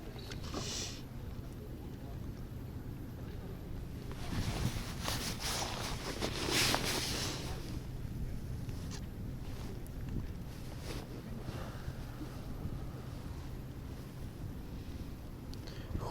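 Cold, frosty wind buffets the microphone in rough bursts over a low steady rumble at a fishing spot, with water and a boat motor faintly audible in the background.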